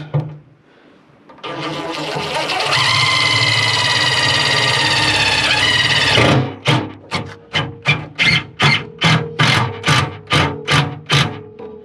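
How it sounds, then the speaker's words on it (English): Power drill driving a screw into a lowboy trailer during a repair, a long steady whirring run of several seconds followed by a string of about a dozen short rhythmic bursts as the screw is snugged home, close and loud. "I'm gonna put a screw in it."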